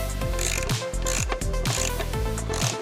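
A ratcheting tool clicks rapidly in repeated bursts, close and loud, as a screw is tightened on a BMW X5 M50i door panel during a crash rebuild; no talking.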